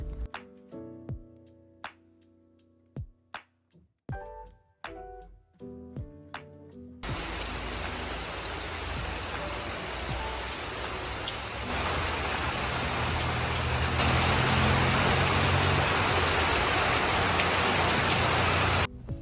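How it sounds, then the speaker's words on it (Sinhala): Heavy rain pours down at a home in Sri Lanka. A few seconds of sparse plucked musical notes come first, then a dense, steady roar of rainfall takes over and grows louder toward the end. "ටික වෙලාවකින් හොඳටම ලොකු වැස්සක් පටන් ගත්තා"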